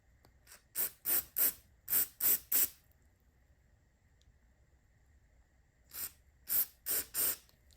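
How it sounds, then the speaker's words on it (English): Short hissing bursts of carburetor cleaner from an aerosol can into a Yard Machines snowblower carburetor come close together in two groups, with a quiet pause between them. "I'm just gonna spray a little bit of starting fluid there. Not starting fluid, carburetor cleaner."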